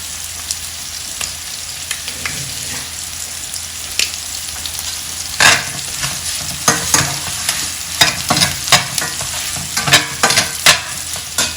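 Grated coconut and prawns frying in a pan, with a constant sizzle and repeated scraping stirs that grow louder and busier in the second half, and no one speaking.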